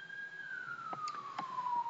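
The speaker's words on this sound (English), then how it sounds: "there's sirens going off all over the place" An emergency siren wails outside, a single slowly falling tone heard at a distance with faint background noise.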